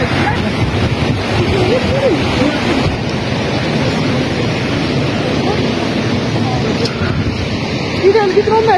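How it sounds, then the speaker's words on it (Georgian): Tortum waterfall in the Tao region of Turkey roars as a loud, constant broadband rush with wind buffeting the microphone, and a voice speaks briefly over it. "ხმა გესმით ალბათ ჩანჩქერის."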